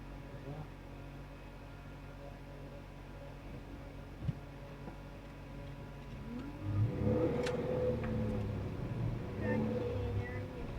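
Traffic passes on a road during a drive, with a low engine rumble that swells as vehicles accelerate close by in the second half, over a steady in-car hum.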